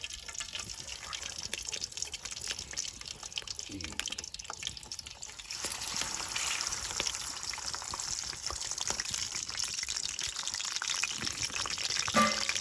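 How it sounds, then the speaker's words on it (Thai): Oven-baked Thai pork belly with the skin on drops into boiling oil to crisp. A steady, close sizzle and crackle swells louder about halfway through and keeps hissing to the end, with a voice heard at times. "เดี๋ยวใส่หมูเขาลงไปทอดเลยนะครับบัดนี้น้ำมันเดือดแล้ว"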